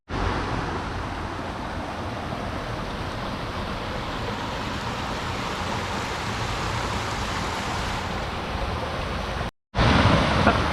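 A brook flows under a small stone bridge beside a disused heritage railway, a steady, close rushing of water that runs unbroken before a brief cut near the end.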